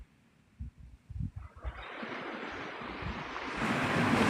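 Loud ocean waves break right at the shore on Navarre Beach, Florida, with a few low thumps giving way to a building, roaring wash of surf that swells steadily and grows louder toward the end.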